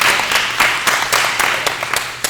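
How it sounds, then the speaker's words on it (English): Audience applause after a dental hygiene graduation milestone is shared at a health talk, a brief burst of close, dense clapping with sharp individual claps standing out, fairly loud, no talk over it. "Y'all can clap for that."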